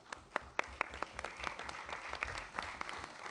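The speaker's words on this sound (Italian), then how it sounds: "E chiedo l'applauso dei Paesi membri ai nostri partner" Delegates at an interparliamentary conference on fighting organized crime applaud. The clapping is distant and fairly faint, with sharp individual claps standing out from the steady spread of a hall crowd.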